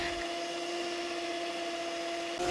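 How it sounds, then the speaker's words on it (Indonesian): An electric mixer beats butter at high speed for a marble cake, a loud steady motor whine with a constant pitched hum running throughout, a slight shift in tone right at the end. "Mixer dengan kecepatan tinggi sampai putih, pucat, dan mengembang."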